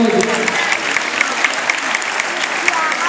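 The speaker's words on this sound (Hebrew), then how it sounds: "מגיע להם מחיאות כפיים" A school audience applauds after a cello performance at a school's hundredth-day event, dense loud clapping sustained throughout, close and unbroken.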